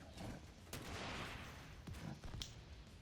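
Gunfire in a video game boss fight against the Iron Horse, with a few muffled shots and bursts from a turret and rocket weapon scattered at moderate volume over a low, rumbling game background.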